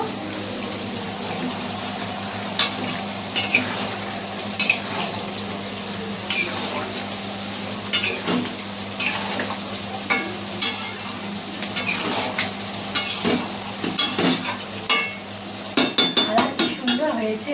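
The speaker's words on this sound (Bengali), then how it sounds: "কালার ভেজে রাখা আলুটা এবার দিয়ে দেবো" Fried potatoes tipped into a simmering spiced mutton curry in a pan and stirred, with a soft steady sizzle under repeated sharp scrapes and clinks of a spatula against the metal.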